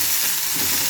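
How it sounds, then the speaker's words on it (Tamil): Ingredients sauté in a hot pan as they are stirred, giving a close, steady, loud sizzle with a continuous frying hiss and no talking. "சேர்த்துட்டு இது நல்லா வதக்கி விட்டுட்டே இருங்க."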